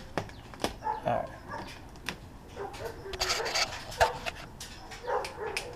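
A dog whimpers and gives a few short barks in a garage while a 3rd-gen 4Runner door panel is removed, the sounds coming in scattered bursts at moderate distance over background clatter.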